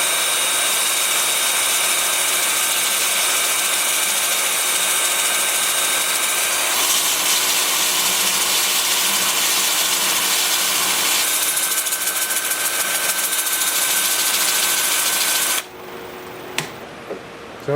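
A wood lathe turning a wood piece in reverse at about 400 RPM gives a steady, continuous machine whir with a broad hissing grind for a long stretch, then drops away near the end to a quieter hum with a few faint knocks.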